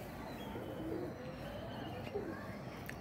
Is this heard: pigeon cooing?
yes